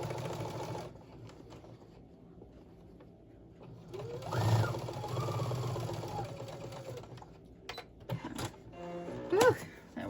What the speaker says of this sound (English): I'm going to sew these two together.